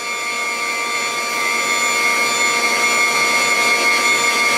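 A homemade foam machine with a cotton membrane runs with a steady, high-pitched mechanical whine and airy rush, rising slightly in loudness and holding constant throughout.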